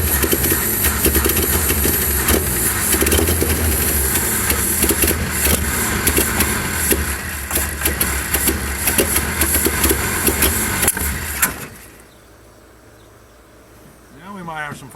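A race car engine running loud and rough for about eleven seconds, then cutting out abruptly into near silence, with a short voice at the end.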